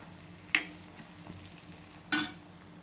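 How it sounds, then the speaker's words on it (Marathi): A spoon stirs sesame hair oil in an iron kadhai, giving two sharp metallic scrapes about a second and a half apart over a faint, quiet background. "लोखंडाच्या कढईमध्येच अशा पद्धतीचे तेल आपल्याला बनवायचं असते"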